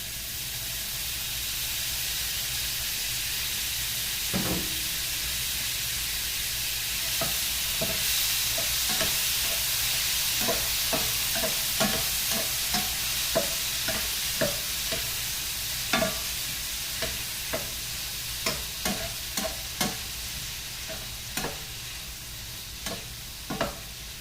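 Finely chopped tomatoes fry in a pan for a wedding-style potato bhaji, a constant hissing sizzle broken by repeated clacking spatula strokes that grow more frequent toward the end, no voices.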